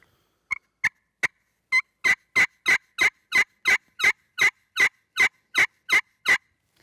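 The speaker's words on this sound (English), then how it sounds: "I prefer a really high-pitched call. Highball rasp, as we call it." A turkey call makes a rapid series of sharp, high-pitched yelps, starting with a few spaced notes and building into a steady, evenly timed run.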